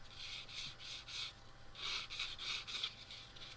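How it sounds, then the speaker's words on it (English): A UMP sander rubbed against a plastic model kit part to take a nick off, heard as close, repeated short rasping strokes in two bursts with a brief pause between, alone with no voices. "So we're going to use a UMP sander and just take that"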